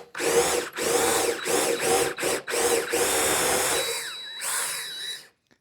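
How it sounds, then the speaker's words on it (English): A power drill boring a hole through workbench wood, close and loud, whirring in several short stop-start bursts before a longer steady run that winds down to silence. "And drill my hole through."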